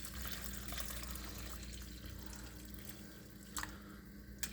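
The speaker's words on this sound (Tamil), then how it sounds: "ஸோ அதில் கொஞ்சம் தண்ணி ஊற்றி இந்த புளியை நாம் நல்லா சோக் பண்ணிடலாம்." Hot water from a kettle trickles and splashes softly onto tamarind in a bowl for pepper rasam, a faint, steady pour with a couple of small clinks near the end and no talk.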